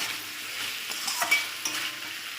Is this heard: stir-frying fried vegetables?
yes